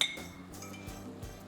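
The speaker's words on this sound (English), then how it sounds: "Go ahead and stir it in." A metal spoon clinks against a pot while stirring tomato paste into spicy chicken vindaloo, several soft scraping taps close by.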